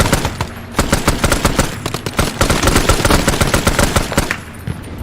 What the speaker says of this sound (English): Whoa, shots fired!